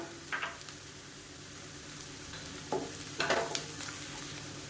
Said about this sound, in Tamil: இது எல்லாமே நல்லா வதங்கட்டும்